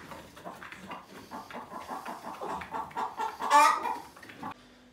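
Newly arrived slaughter chickens cluck in a dense, overlapping chatter close by, building to a loud squawk before settling into quiet near the end.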